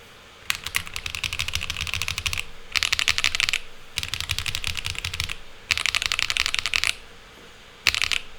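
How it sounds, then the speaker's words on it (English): Rapid typing on a mechanical keyboard, likely the Tomo, during a sound test, in several bursts of dense clicking separated by short pauses, close up and clear with no voices. "But the standard mechanical keyboard, the Tomo, is much more resonant."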